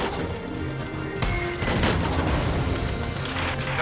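Gunfire in Valkyria Chronicles 4 during a squad battle on a beach: a dense, continuous volley of overlapping shots and booms, loud and close, with a heavier burst of fire around the middle.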